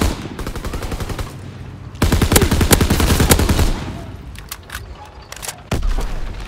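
Gunfire from Call of Duty WW2 War Mode: sustained bursts of automatic fire and rapid shots, loud and close, with a heavier barrage in the middle and scattered single cracks toward the end.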